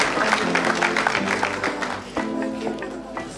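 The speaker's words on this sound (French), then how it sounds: "Je pense qu'on peut applaudir pour eux parce qu'ils constituent un véritable soutien pour le cinéma camerounais." An audience at a film premiere in Yaoundé applauds supporters of Cameroonian cinema, a short burst of crowd clapping mixed with voices and music-like tones.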